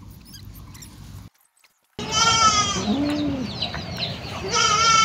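Pregnant goats on a goat farm bleat loudly and close by, several wavering calls overlapping after a brief silence, with a quieter background stretch at the start.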